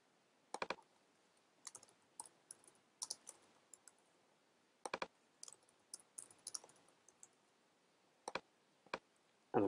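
Sparse, faint computer mouse clicks come in short bursts and single taps as someone works in event planning software, with quiet gaps between them and no talking.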